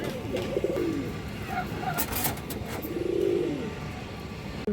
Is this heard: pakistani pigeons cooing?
yes